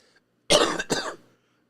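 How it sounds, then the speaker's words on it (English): Two quick, forceful coughs in close succession, loud and close, with silence before and after. "That cough was so hard I got a headache now"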